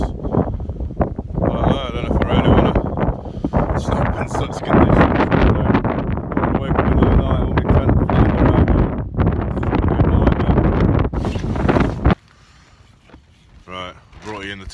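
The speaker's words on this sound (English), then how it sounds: "it's just so windy, it's unreal" Strong wind at a wild camp near High Cup Nick in the Pennines buffets and roars against the microphone for about twelve seconds, loud and turbulent, then drops to a quieter gusting rumble.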